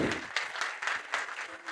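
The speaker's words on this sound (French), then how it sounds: "On applaudit très fort pour lui." An audience at a stand-up comedy show applauds comedian Bassek Fils, with a dense, lively burst of clapping and some voices mixed in.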